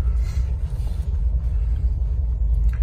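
A 2011 Jeep Wrangler engine idles steadily nearby, a continuous low rumble with no talking over it.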